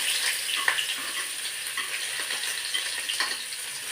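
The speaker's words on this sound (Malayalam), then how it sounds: "ഒരു സവോള ഒരു പച്ചമുളക് ശകല ഇഞ്ചി ഒരു തക്കാളിക്ക് ഇത് നമ്മളിതെല്ലാം കൂടെ എണ്ണയിൽ തന്നെ ഉഴച്ചെടുക്കും" Onion, green chilli, ginger and tomato sauté in oil, giving a steady, close, hissing sizzle with a few soft stirring knocks and no talk.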